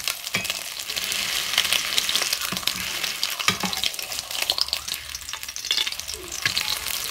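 A hamburger patty fries in a pan with steady, crackling sizzle and spatter close up, while occasional pressing and scraping sounds cut in, and no one speaks.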